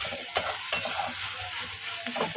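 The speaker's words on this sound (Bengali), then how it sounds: "আর এখানে হচ্ছে চিচিঙ্গে ভাজা আজকে" Snake gourd frying in hot oil in a pan, a steady close sizzle with a couple of sharp stirring clicks near the start and a brief scrape later.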